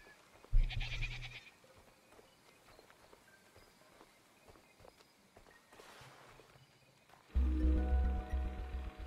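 Sheep bleating in the pixel-art adventure game Superbrothers: Sword and Sworcery, with a short bleat near the start and a louder stretch of animal sound and game ambience toward the end, no talking.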